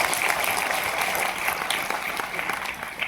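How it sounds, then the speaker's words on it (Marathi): Loud, dense applause from a crowd at a political rally in Maharashtra, steady, close clapping sustained throughout without a break. "म्हणून त्या सगळ्यांकरता परत जोरदार आपण टाळ्या दिल्या"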